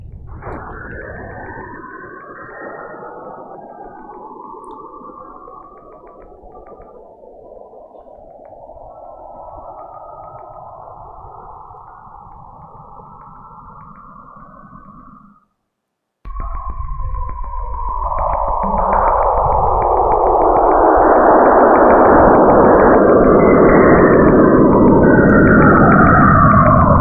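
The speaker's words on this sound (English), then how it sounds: "here's an audio file that shifts the frequency down to the audible range and compresses it in time" Magnetic field readings from Saturn's moon Enceladus, shifted down into the audible range and time-compressed, make eerie whistling, swooping tones over a steady hiss, then cut out briefly before a louder, denser roar of sweeping noise.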